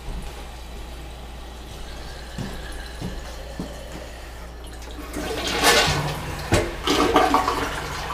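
A newly installed toilet flushed for the first time during a home improvement job, with a steady low hum at first, then a loud rushing whoosh of water swelling in the second half, up close.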